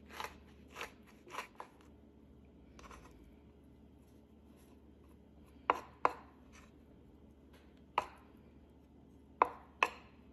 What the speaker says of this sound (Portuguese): Depois de descascadas as bananas, vamos agora cortar as cascas bem miudinho.